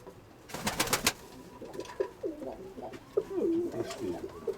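Pigeons coo softly in a repeated rolling pattern, preceded by a brief flurry of wing flaps, fairly close and quiet.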